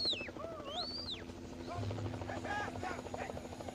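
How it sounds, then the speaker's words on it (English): A helicopter herding zebras on the plains of the Soysambu Conservancy in Naivasha, Kenya, produces a steady rotor drone throughout, with birdsong chirping over it. "Helicopters herd them into a holding area."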